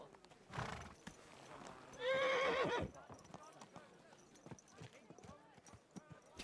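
In Kingdom Come: Deliverance 2, a horse gives a loud, shrill neigh amid light hoof clip-clops, with scattered knocks and clicks around it.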